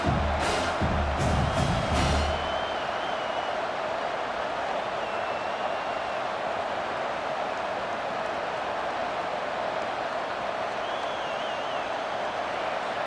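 A large home stadium crowd in the video game EA Sports College Football 25 roars steadily on third down, a broad sustained wash of cheering with a brief louder burst at the start.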